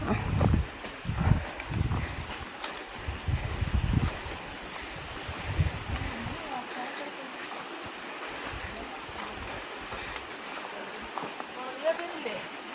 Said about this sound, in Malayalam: കാറ്റ് കേട്ടോ, കാറ്റ്.